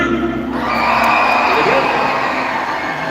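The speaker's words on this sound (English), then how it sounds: "Clap your hands, stamp your feet, cheer, scream, whistle" Live SuperDogs show audience clapping, stamping, cheering, screaming and whistling on cue, a loud sustained roar of crowd noise with whistles, while a voice talks over it.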